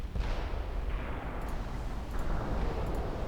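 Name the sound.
naval cruisers' guns firing in video game Ultimate Admiral Dreadnoughts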